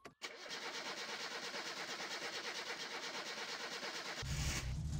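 A car engine in the video game My Summer Car cranks and struggles to start, a steady rapid chugging rattle running for several seconds with no talk, ending in a louder rough burst as it catches.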